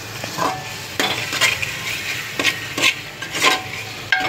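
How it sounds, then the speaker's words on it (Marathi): A spoon stirs chicken biryani masala frying in oil in a pan, scraping and sizzling in repeated strokes at close range, with a steady frying hiss underneath and no talking. "आता मस्त एक जीव होईपर्यंत हलवून घ्यायचं याला"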